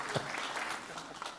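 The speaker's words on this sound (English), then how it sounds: "did I hear applause for that group?" Brief, faint scattered clapping from a small audience at a school district board of education meeting, heard for about a second with a voice briefly present.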